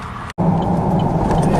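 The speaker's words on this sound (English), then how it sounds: "The tires are loud" Loud tires on a lifted GM truck drone steadily at highway speed, a dense, close road roar heard from inside the cab with a brief dropout near the start.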